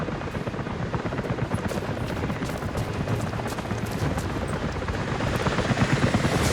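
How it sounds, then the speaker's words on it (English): A helicopter's rotor in Rise of the Tomb Raider thumps loudly and continuously, a dense rapid chopping that grows slightly stronger toward the end. "helicopters are headed your way"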